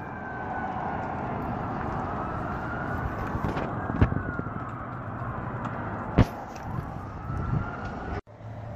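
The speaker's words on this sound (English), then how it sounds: "good old sirens" An emergency vehicle siren wails steadily in the distance outside an abandoned Kmart in Austintown, Ohio, rising and falling beneath scattered nearby clicks and thumps.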